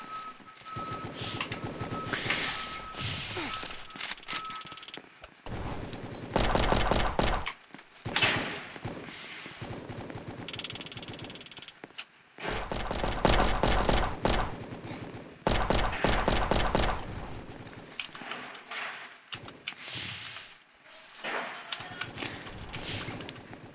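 Gunfire in the Roblox game Prison Life, heard as repeated loud bursts of rapid shots separated by brief gaps of quieter game sound.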